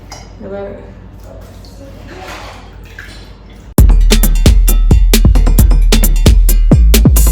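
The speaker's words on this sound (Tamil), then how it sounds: "இந்த பார்த்தீங்களா தண்ணி போட்டு நல்லா வடிச்செடுப்போம்" Water poured through grated beetroot for beetroot halwa: talking comes first, then loud close splashes, drips and clinks of a kitchen vessel arrive suddenly and keep going.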